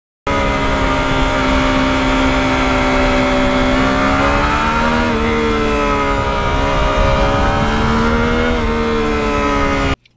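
Yamaha MT-09 motorcycle engine revving up through the gears with a quick shifter, a loud, steady, close engine roar whose pitch climbs and dips across shifts for about ten seconds before cutting off abruptly.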